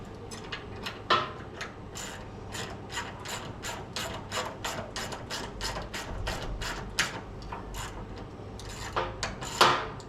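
Ratchet tightening bolts on a Pit Boss grill shelf, a rapid run of close clicking strokes in steady rhythm over about ten seconds, moderately quiet, with no talking.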